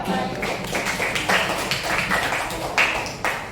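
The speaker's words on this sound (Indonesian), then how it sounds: "Tepuk tangan untuk yang pertama." Clapping from a small audience at an Indonesian group presentation, a few uneven claps with irregular taps and thuds, fairly close and loud, somewhat sparse rather than a full ovation.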